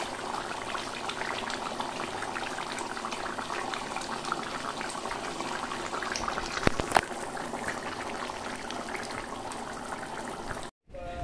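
Mutton curry simmers on a low gas flame, giving a steady, soft bubbling hiss that runs unbroken and close, with a couple of faint clicks near the end.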